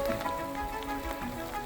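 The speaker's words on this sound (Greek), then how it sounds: "Βροχούλα." Light rain patters in a soft, steady hiss of fine drops on surfaces, close and even throughout with no voices.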